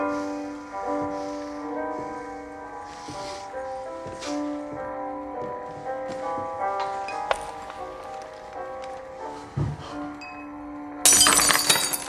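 A glass drops and shatters on a floor with a sudden bright crash near the end, after a long stretch of sustained musical tones and low background sound.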